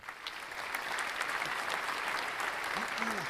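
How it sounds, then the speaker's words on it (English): A room full of people applauds steadily for a few seconds, dense clapping at a moderate distance with a faint voice underneath. "A round of applause, please."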